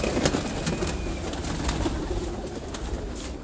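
Teddy pigeons coo in a low, steady murmur beneath broad hiss and scattered clicks, with no one speaking.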